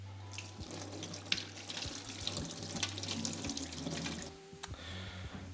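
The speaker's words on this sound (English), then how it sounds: "And let's get our chickpeas drained." Canned chickpeas draining in a kitchen sink, liquid splashing and trickling in a steady stream with small drips, close by under a low background hum, then tapering off near the end.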